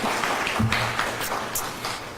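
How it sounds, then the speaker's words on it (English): An audience at a journalism symposium gives brief applause, a dense burst of clapping that tapers off within a couple of seconds. "Everybody gets applause."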